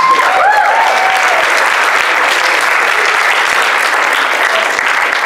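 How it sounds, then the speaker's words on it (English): Loud sustained applause from a live audience at a charity Dungeons & Dragons game, dense and even throughout with a few faint voices and whoops mixed in. "let's give a huge round of applause for our friend Scout"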